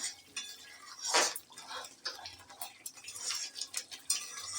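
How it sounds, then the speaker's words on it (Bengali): A spoon stirring vegetarian paneer curry in a pan, giving soft scraping and light clinking sounds, quiet and irregular, with a faint wet bubbling underneath and no talking. "ঢাকাটা তুলে এবার নেড়ে দিচ্ছি"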